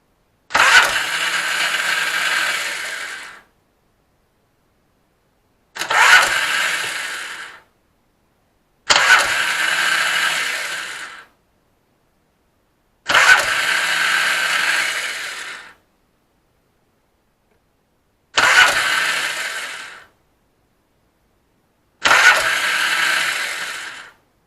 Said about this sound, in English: I'm going to hit the starter